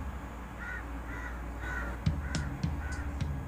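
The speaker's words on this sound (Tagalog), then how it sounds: "Parang nagagali yata uwak sa akin" Crows caw around a city rooftop, several harsh calls trading back and forth at moderate distance over a low background hum, with a few sharp knocks near the end.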